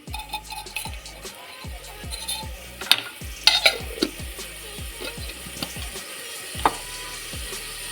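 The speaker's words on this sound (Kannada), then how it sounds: "ಸಾಂಬಾರು ಒಗ್ಗರಣೆ ಮಾಡ್ತಾಯಿದ್ದೀನಿ" A spoonful of oil heating for a sambar tempering crackles and sizzles close by, with a rhythmic series of soft low thumps beneath and a few sharp pops scattered through, and no speech.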